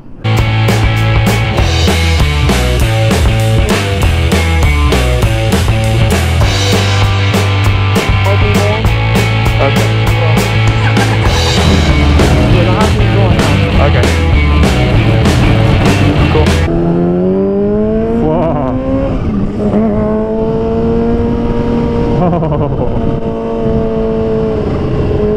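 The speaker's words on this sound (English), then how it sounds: "Supercharger sounds badass, yo. Oh my god, this thing has no lag whatsoever." Modified supercharged Kawasaki H2 motorcycle under way, its engine loud and close with rapid revving and sustained high-rpm pulls, then a sudden shift to lower, rising and falling engine tones as the rider changes pace.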